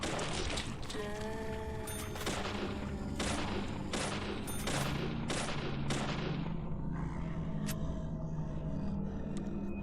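Gunshots in Deadly Premonition on Xbox 360, a string of sharp cracks at irregular intervals over a steady droning background, each shot ringing briefly before the next, moderately loud.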